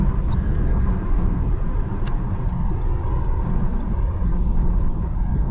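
A 1978 Chevrolet El Camino with a rebuilt transmission and 3.73 rear end cruises in overdrive with the torque converter locked, giving a steady, unbroken low engine and road rumble heard from inside the cab.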